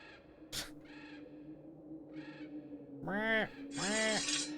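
Game birds in Geneforge 2 caw loudly in repeated harsh, hoarse calls, growing louder and longer toward the end, with a sharp crack near the start and a faint background hum.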